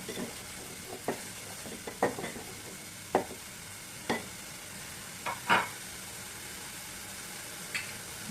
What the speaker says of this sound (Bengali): এটা ভালোভাবে কষিয়ে নিতে হবে